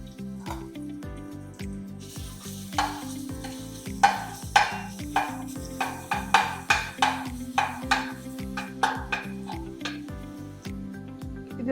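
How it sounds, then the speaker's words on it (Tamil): Garlic paste fries in oil in a kadai, sizzling and crackling in bursts that come and go while music plays underneath. There is no talk. "நம்ம இப்போ அரைச்சி வச்சிருக்க பூண்டு விழுது சேர்த்துக்கலாம்."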